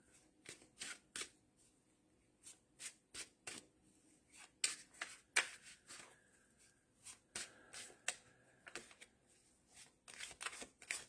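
Tarot cards are shuffled by hand in short riffling bursts separated by pauses, crisp and close but fairly quiet, repeating steadily through the quiet room.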